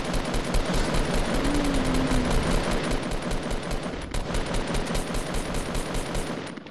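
Rapid, dense gunfire from the Fortnite battle royale video game rattles without pause for several seconds, loud and close, a sustained automatic burst with no talking over it.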